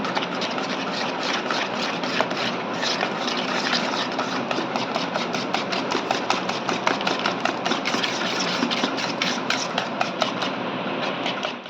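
An electric hand mixer beats cake batter for brownies and cupcakes at home, giving a steady, continuous motor whir with a dense rattling buzz throughout, close and fairly loud, with no voices.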